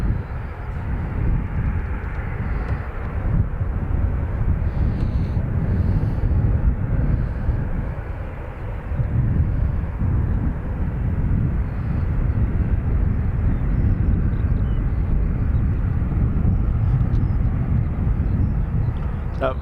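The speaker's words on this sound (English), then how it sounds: "That was a KLM cargo, Miami to Amsterdam" A KLM cargo plane bound from Miami to Amsterdam rumbles past at Dublin Airport, a broad, steady engine roar that swells and eases with wind buffeting, under occasional talk.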